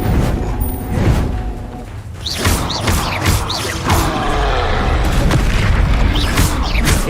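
Bombarda blast spells in Hogwarts Legacy go off as repeated loud booming explosions, several heavy bursts in quick succession over a constant rumbling roar, each with a sharp crack and rolling tail.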